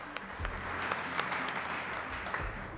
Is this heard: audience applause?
yes